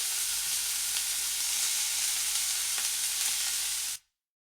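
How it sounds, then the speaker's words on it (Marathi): Chopped onion and tomato sautéing in a hot pan for a paneer masala make a steady, close hiss of frying that holds evenly, then cuts off abruptly into silence. "आपले जे साहित्य आहे कांदा टोमॅटो ते छान परतलं जाईल, पटकन परतलं जाईल यासाठी."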